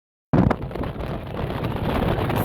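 Strong wind buffets the microphone at the Hong Kong Sky Terrace on The Peak, a loud rumbling roar that cuts in abruptly and continues steadily.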